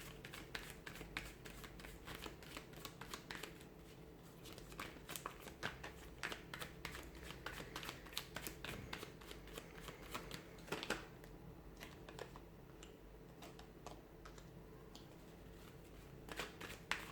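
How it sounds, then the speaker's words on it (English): Tarot cards are shuffled continuously for a long stretch, with rapid, rhythmic riffling and slapping that is close and soft and has occasional louder flicks, and no voices. "Cards are just falling out."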